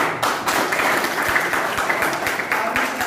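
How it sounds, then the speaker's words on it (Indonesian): Audience applause at an indoor business presentation in Purwokerto, a dense, steady wash of many hands clapping at close range for about three seconds. "Aplaus buat Anda"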